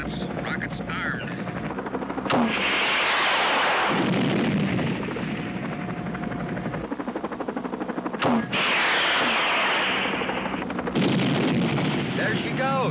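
Rockets fired from aircraft at a snow cornice on a mountain, heavy roaring blasts and rushing whooshes under constant helicopter rotor drone, loud and sustained, with voices mixed in.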